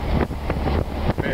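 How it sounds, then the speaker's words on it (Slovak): Strong wind on a boat buffets the microphone with a loud, gusty roar, broken by repeated thumping bursts in quick succession. "jaký veter"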